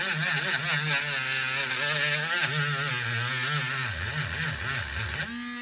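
A $7 Harbor Freight rotary tool spins a wire wheel attachment with a continuous close whine whose pitch wavers, sags in the last seconds, then jumps back up.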